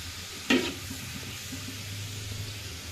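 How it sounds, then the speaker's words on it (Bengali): Garlic paste fries in a pan for home-style dal. A sharp burst of sizzle opens the sound, then a steady, quieter frying hiss carries on beneath it, with no voices. "পেস্টটা রসুনটা একটু ভালোভাবে ভাজে নিচ্ছি, ভালো করে এভাবে ভাজতে হবে"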